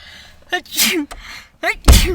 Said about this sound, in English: Sneeze one more time, and I'm leaving.